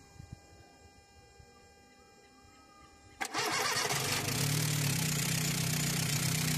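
A VW Gol engine is cranked and catches abruptly after a quiet stretch, then settles into a loud, steady idle that runs to the end.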